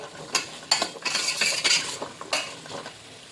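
A spoon stirs pineapple into rice in a pan for pineapple rice, giving several sharp metallic scrapes and clinks against the pan over a soft sizzle, close and fairly loud, with no talking.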